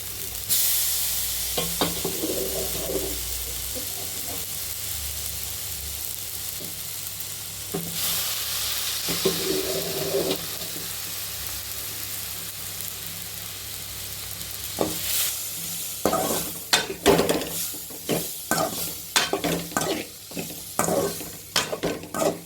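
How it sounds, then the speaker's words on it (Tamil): Boiled pasta being stirred in a frying pan, with a steady close sizzle and hiss. Scraping utensil strokes on the pan grow busier and louder toward the end, and no one speaks. "சேர்த்ததும் நல்லா இப்படி கிளறி விடுங்க."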